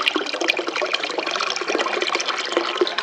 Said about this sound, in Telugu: నీళ్ళు పట్టేది